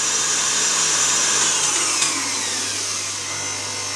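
An electric mixer whips chocolate Swiss meringue buttercream at its highest speed, giving a steady, loud, high whirring drone that holds evenly throughout with no talking.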